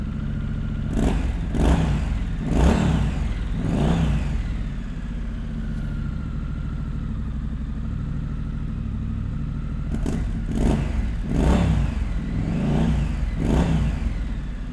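A Triumph Bonneville Street Scrambler motorcycle engine idles with a deep, throbbing rumble, with several sharp throttle blips early on, a smoother stretch at idle, then more revs toward the end, close and loud.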